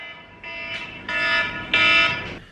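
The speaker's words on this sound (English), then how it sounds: "Perfect, and the timer's going off." An electronic timer alarm in an office sounds in repeated harmonic buzzing bursts that grow louder, steady and insistent, with no talking.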